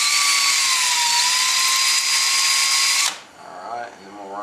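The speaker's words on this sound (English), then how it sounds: "attempt to run our drill" A power drill deburring a rifle stock fitting whines at high speed for about three seconds, then cuts off and spins down with a faint rattle.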